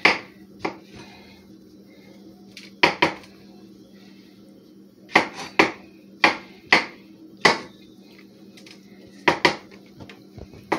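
A knife slices mushrooms on a cutting board, making sharp, distinct taps and knocks, some single and some in quick clusters, with quiet gaps between the cuts.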